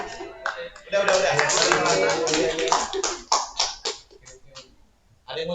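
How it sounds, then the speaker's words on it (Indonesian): Audience clapping during an Indonesian classroom lecture, a burst of hand claps that swells, then thins into scattered claps and fades out, with voices talking over it. "tepuk tangan."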